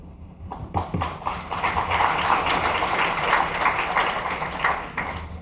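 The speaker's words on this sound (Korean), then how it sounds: "고맙습니다. 박수 쳐주셔서" An audience applauds after a keynote demo at a Microsoft enterprise conference in 2012, with a dense, steady patter of clapping that swells after a sharp start and holds throughout with no talk over it.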